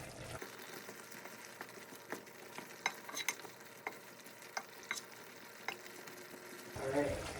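Lemongrass chicken stir-fry stirred in one pot over high heat: a steady sizzle with repeated sharp scraping and clinking strokes of the utensil, close and fairly quiet, with a brief louder flurry at the end.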